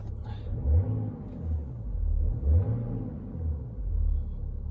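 A BMW X5 E70 engine idles steadily at about 700 rpm on a freezing 0-degree day, a low, even rumble with slight swells in loudness throughout.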